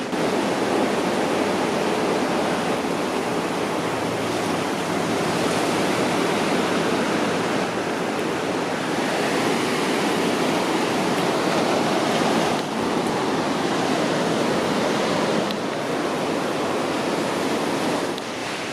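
Ocean waves roll onto the shore at Flagler Beach, Florida, as a continuous broad roar of surf with gentle swells, steady and fairly loud with no speech.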